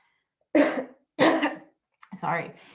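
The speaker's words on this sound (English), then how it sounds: "I'm gonna have to cough" Two distinct, loud coughs close by, followed by a third rougher cough that trails into a throat-clearing sound.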